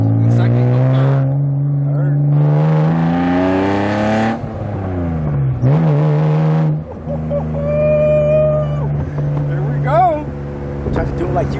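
A straight-piped BMW M car pulls hard through second and into third, its loud exhaust rising in pitch, dropping at each shift and climbing again, with a short lull in between; voices talk over the engine at points.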